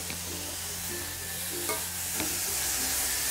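Spiced potato filling for bread rolls fries in a pan under a steady, loud hiss of oil, with occasional clinks of a utensil stirring it, close up throughout.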